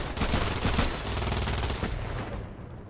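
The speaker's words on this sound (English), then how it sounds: "How's that MG still going?" Sustained machine gun fire in the World War II shooter Hell Let Loose, a loud continuous burst of rapid shots lasting about two seconds before tapering off into fainter battlefield noise.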